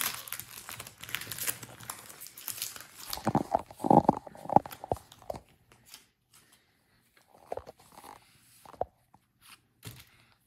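A Pokémon card booster pack from the Tempest set is torn open up close, bursts of crinkling foil and tearing packaging followed by sparse rustles and shuffling of cards, with quiet gaps between.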